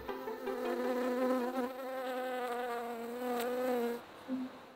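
A bee buzzes steadily close by in Wytham woodland, a loud harmonic drone that shifts slightly in pitch and breaks off near the end, heard alone.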